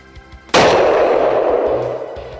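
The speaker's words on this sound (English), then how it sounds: "Our hunter decides to use his rifle." A single rifle shot fired at a bull moose during a hunt, one sharp loud crack with a long rolling echo that decays over about two seconds outdoors.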